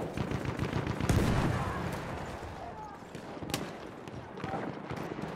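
Gunfire in the Battlefield 1 video game, a busy stretch of dense shots and bursts with sharper cracks standing out, heard alongside voices in a chaotic battle mix.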